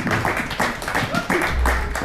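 Short burst of audience clapping at a live comedy-style stage show in Reykjavik, moderately loud and steady, mixed with a voice talking over it.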